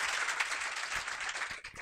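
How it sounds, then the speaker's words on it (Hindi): A class of students applauds together, a dense, even wash of many hands clapping at moderate volume, continuing steadily before thinning out at the end. "एक बार फिर ताली बजाई जाए"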